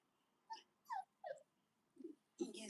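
A Labradoodle puppy gives a run of short, high squeals and whimpers, three quick yelps followed by two softer cries, close and fairly quiet against a silent background.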